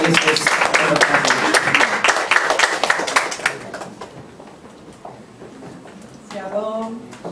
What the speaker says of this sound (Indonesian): Mari kita sambut Ibu Feni dengan tepuk tangan.